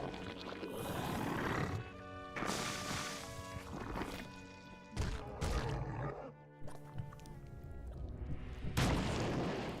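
Siege tanks firing in the StarCraft 2 real-time strategy game, heavy booming artillery blasts landing in several loud bursts over a dense, continuous battle din.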